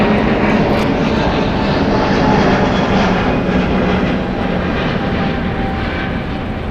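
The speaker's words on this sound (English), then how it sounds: "It's an Airbus A320neo." Airbus A320neo jet at LAX airport, a loud, steady broadband engine roar that holds for the whole stretch with no talking over it.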